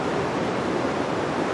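Ocean surf at a surf contest, a continuous loud roar of breaking white water with no voices.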